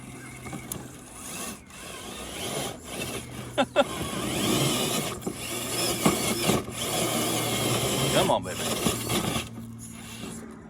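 SCX10 III RC rock crawler fitted with low slow gears, driving over obstacles: a steady close grinding, scraping drivetrain whir with occasional clacks and bumps, continuous throughout.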